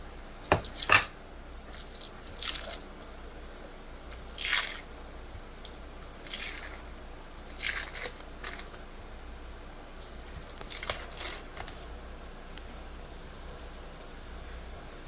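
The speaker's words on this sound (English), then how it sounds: "A butter knife I find works better because it doesn't cut through it, but you can get under it and pry it up." A butter knife pries the membrane off raw beef ribs, giving sparse, quiet wet squishes and tearing clicks at scattered intervals over a faint background hum.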